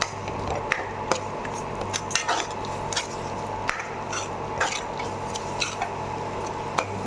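Stirring onion thokku cooked in an idli pot: a spoon scrapes and taps against the metal pot in irregular strokes, close and clear, over a low steady hum, with no talk.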